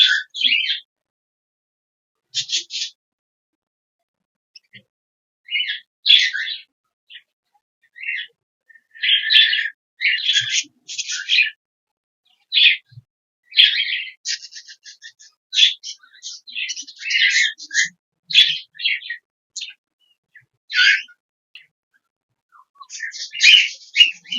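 Cockatiels eating from their feed give scattered bursts of bright chirps and short calls, some clustered and some alone, over otherwise quiet surroundings.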